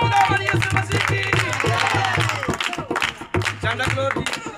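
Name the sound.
congregation applause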